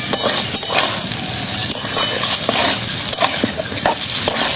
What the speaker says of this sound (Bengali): মশলার সঙ্গে মাছটাকে আর আলুটাকে বেশ সুন্দরভাবে একটু কষে নিলাম